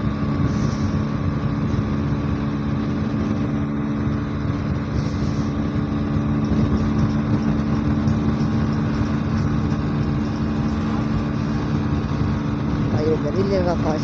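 A motorcycle ridden fast on an expressway gives a steady, loud engine drone mixed with rushing wind noise, continuous and close for the whole stretch.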